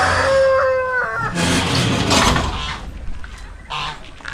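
Chickens being moved to another pen squawk and cluck close by, with a crowing call at the start followed by a burst of agitated clucking and flapping, and voices underneath.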